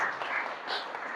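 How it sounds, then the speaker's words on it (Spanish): Congregation applauding during a Spanish-language church sermon, a steady wash of clapping that fills the whole moment at moderate loudness with no voice over it. "Dale un aplauso a Dios."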